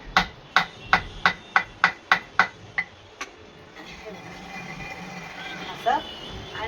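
A hammer pounds mung beans to split them for dal, delivering about ten sharp, evenly spaced blows close by, followed by quieter rustling and handling noise.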